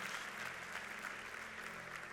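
A church congregation applauds during a prayer service, a faint, even wash of clapping that holds steady throughout with a low hum beneath.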